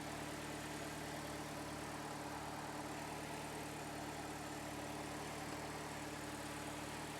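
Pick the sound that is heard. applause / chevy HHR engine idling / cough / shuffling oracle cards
chevy HHR engine idling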